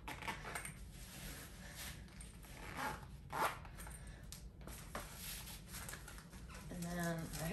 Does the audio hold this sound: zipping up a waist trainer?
yes